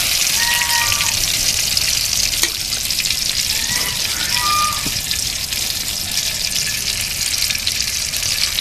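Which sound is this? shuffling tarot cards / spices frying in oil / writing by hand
spices frying in oil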